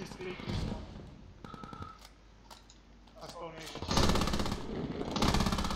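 Machine gun fire in the military shooter Squad: sustained rapid bursts, loud and close, with a quieter stretch midway before heavy fire resumes, and voices talking over it.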